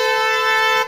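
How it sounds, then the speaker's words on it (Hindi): A New Holland tractor horn blares in one steady, loud, tonal honk lasting just under a second, cutting off sharply at the end with no voices over it. "इसका हॉर्न तो बहुत जबरदस्त है, बजाना एक बार।"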